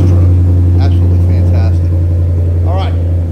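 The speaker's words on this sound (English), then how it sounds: "We're gonna do a cold start on the Dodge Ram." A Dodge Ram truck engine idles just after a cold start with a loud, steady, low rumble close by, while someone talks briefly over it.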